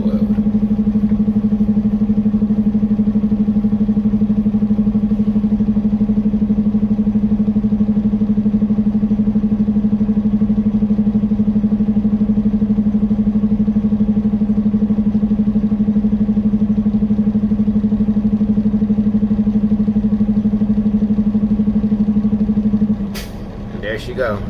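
A Cummins X15 performance engine in a truck with an 18-speed transmission idles steadily with a loud, constant low drone, heard from the cab, before cutting off near the end.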